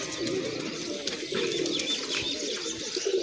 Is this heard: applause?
no